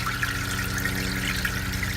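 Water runs steadily from a wide-open valve on an aquaponics swirl filter, a continuous close trickling and pouring with no speech over it.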